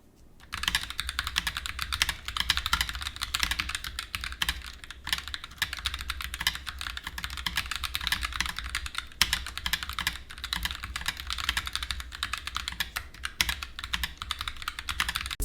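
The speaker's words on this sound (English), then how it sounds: "Here is the typing test of the Roccat Vulcan TKL Pro." Continuous fast typing on a Roccat Vulcan TKL Pro tenkeyless mechanical keyboard with scratchy stabilizers, a dense stream of close, crisp key clicks and clacks with occasional louder thocks, heard alone.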